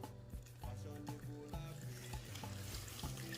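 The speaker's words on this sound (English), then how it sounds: "I'm going to decant this." Homemade carrot juice being poured and decanted into another container, a steady liquid pouring and trickling sound that stays fairly loud and close throughout, with no talking.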